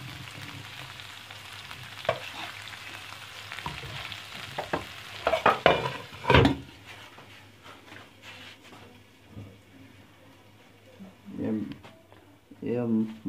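Karahi gosht is spooned from a pan into a serving dish, giving soft scraping and clinks with a few louder scoops in the middle. A voice talks throughout.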